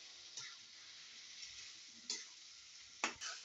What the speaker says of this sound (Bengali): দেওয়া হলে আমরা আবার এটাকে ভালোভাবে নেড়ে চেড়ে নেব।